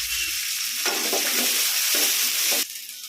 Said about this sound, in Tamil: வெங்காயம் பருப்பு போட்டேன் வெங்காயம் போட்டுக்கிறேன்